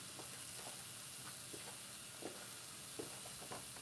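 King trumpet mushrooms dry frying in a pan, a soft steady sizzle with faint scattered crackles and light stirring clicks, close and fairly quiet.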